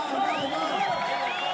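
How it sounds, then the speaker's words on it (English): A crowd at the Extreme Barcelona 2023 BMX street final cheers and whoops, a loud, continuous mass of voices with rising shouts, mixed with commentator-style talk underneath. "Crowd getting hyped up"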